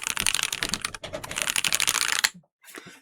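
Rapid clacking keystrokes on a Keychron Q6 HE wireless mechanical keyboard with a heavy, roughly 2 kg aluminium body, close and crisp. A brief pause is followed by a short final burst of typing.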